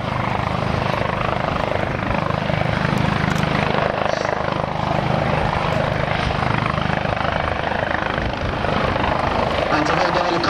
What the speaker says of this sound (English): And to hold the helicopter that steady in these conditions